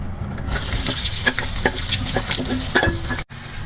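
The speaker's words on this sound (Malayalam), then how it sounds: "എണ്ണ ഒന്ന് ചൂടായി വരുമ്പോ നമുക്ക് ബാക്കിയുള്ള ഈ ഒണിയൻസ് ഇട്ട് കൊടുക്കാം." Onions frying in hot oil, a bright steady sizzle broken by repeated clattering scrapes of a spoon stirring the pan, close and loud, cutting out abruptly near the end.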